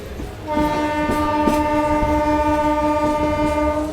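A local train on the Kharagpur to Digha line sounds a long steady horn over the rumble and rhythmic clatter of moving carriages, loud and close, with no talk.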